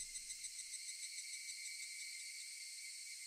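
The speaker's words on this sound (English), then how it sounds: "Only the cry of the cicadas remained, annoyingly loud." Cicadas in the Higurashi visual novel keep up a steady, loud, unbroken drone, with a few soft low thumps fading out in the first moment and nothing else under it.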